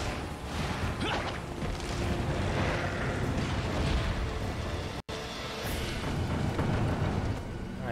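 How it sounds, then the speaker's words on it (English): A massive explosion in Resident Evil 4 roars as a sustained, rumbling blast with whooshing debris, filling nearly eight seconds at high level with a brief cut near the end. "I'm just gonna take the explosion."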